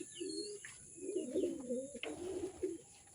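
Racing pigeons coo in a low, throaty rolling pattern, several soft phrases repeating close by over a steady background hum, with a faint chirp or two mixed in.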